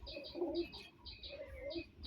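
Close pigeon cooing from a loft of high-flying Giribaz and Madras pigeons, with soft repeated coos rising and falling over about two seconds against faint background chirps.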